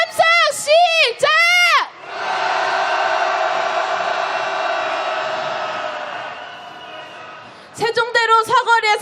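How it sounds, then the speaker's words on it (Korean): Candlelight impeachment marchers in a rainy street let out a loud, sustained roar of cheering lasting several seconds, with amplified voices shouting before and after it. "승리 함성 질러보겠습니다."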